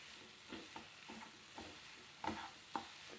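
Ripe banana pieces for cutlets are stirred in a frying pan, with a faint sizzle beneath a series of soft scraping strokes, some sharper clinks, recurring every half second or so at close range.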